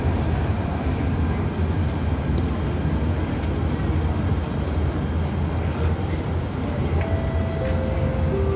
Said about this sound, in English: The train to Lohas Park is arriving.